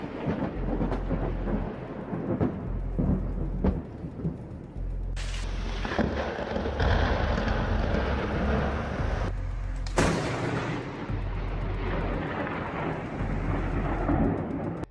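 Loud, close thunder from lightning strikes during a heavy tropical storm, with deep sustained rumbling, sharp cracking claps near five and ten seconds, and rain filling the background.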